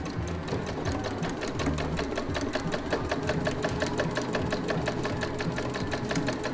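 A sewing machine runs at steady speed in a care home activity room, its rapid, even needle clatter continuous and fairly close throughout, with no talking.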